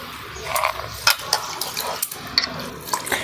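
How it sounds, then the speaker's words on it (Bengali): Rice grains swished and rubbed by hand in a bowl of water, giving repeated wet sloshing and splashing with soft clinks, close and moderately loud, with no talk. "এবার আমি চালগুলোকে ভালো করে জল দিয়ে ধুয়ে নেব।"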